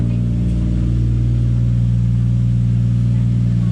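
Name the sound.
2JZ-GTE engine starting and idling in Nissan 180SX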